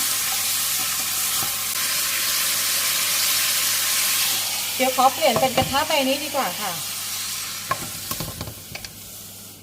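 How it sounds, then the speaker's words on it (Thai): Pork belly stir-fried over high heat in a pan: a steady loud sizzle and frying hiss runs throughout, with scraping stir strokes and clatter joining partway, and someone speaks briefly near the start. "คั่วหมูไฟแรงๆหน่อยนะคะ จะให้ตัวหมูเขาเหลืองๆนะคะ"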